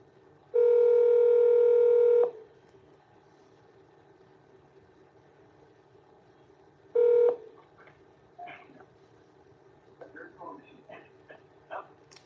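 A phone dials out to return a missed call: one long steady tone, a second short tone a few seconds later, then faint voices and small handling sounds.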